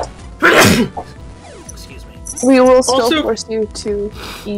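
A loud, close sneeze bursts out near the start, with people talking before and after it over a game soundtrack.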